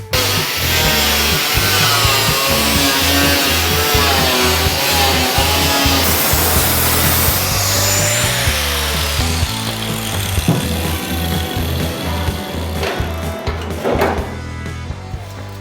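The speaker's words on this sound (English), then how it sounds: "All we got to do is cut it." A power tool cuts through a rusty 20 gauge sheet metal car panel, giving a loud, steady, whining grind with a shifting pitch that runs throughout and fades near the end.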